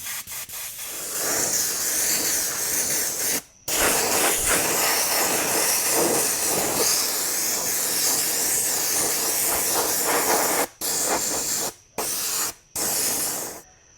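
A can sprays a purple coat onto the body of an RC truck, a Proline Silverado shell for an ARRMA Mojave Grom, as a loud continuous hiss with brief pauses between passes and no talking.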